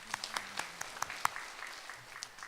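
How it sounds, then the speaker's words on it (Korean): Scattered applause from a congregation during a church service, a soft, fairly distant patter of clapping hands that thins out over a couple of seconds. "하나님께 감사의 박수 올려드릴까요?"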